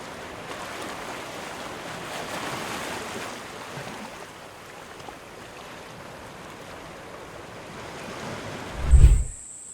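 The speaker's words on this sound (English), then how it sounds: "California sea lions Camper T and Coco K splash back into the Pacific after rehab" Pacific Ocean surf washes onto Baker Beach in California as rehabilitated sea lions are released, a steady broad roar of waves with wind rumble, swelling briefly and ending in a short loud thump.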